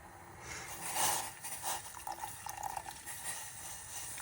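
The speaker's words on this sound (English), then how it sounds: "So we're just going to add the milk in." Milk poured into a pan of dark, brewing masala chai on the stove gives a soft, steady liquid pour and trickle, close by and fairly quiet, with faint bubbling beneath and no talking.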